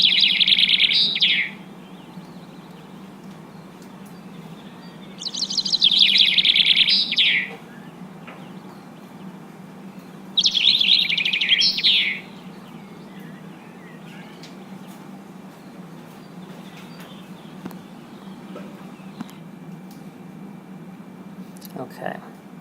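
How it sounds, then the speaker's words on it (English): Three bright chaffinch song phrases from the English Midlands, each a rapid descending trill of about two seconds, come at roughly five-second intervals over a low background hum, with a person talking quietly afterward. "Chaffinches have different dialects in different parts of the country."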